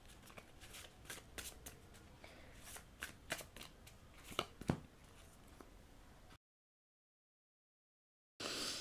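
Close, quiet riffling of a tarot deck being shuffled, with soft flutters and sharper snaps of cards, then a stretch of dead silence and a brief burst of noise at the end.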